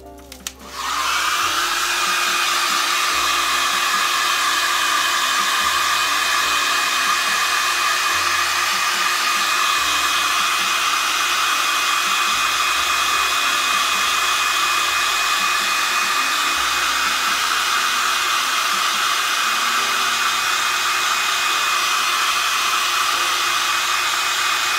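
A hair dryer blows on hand-dyed leather, a loud, steady whir that switches on at the start and runs unbroken for about twenty-five seconds with no talking.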